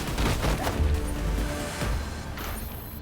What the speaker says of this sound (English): Cops are shooting me too.